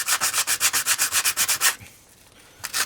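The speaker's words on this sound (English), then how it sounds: "We've got our piston here, and I've got some 150 grit sandpaper, and I'm just going to start" Piston from a Stihl 026 chainsaw being sanded by hand with 150 grit sandpaper: loud, rhythmic rasping strokes, about a dozen quick back-and-forth passes, a brief pause, then sanding starts again.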